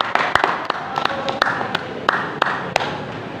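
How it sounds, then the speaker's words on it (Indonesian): Hand claps from a church congregation, a sparse scattering of sharp individual claps at irregular intervals rather than a full ovation, fairly close and distinct over a quiet room. "Tepuk tangan dulu buat dia."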